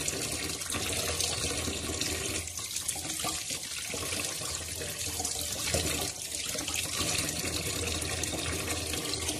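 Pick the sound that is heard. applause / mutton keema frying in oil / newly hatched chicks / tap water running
tap water running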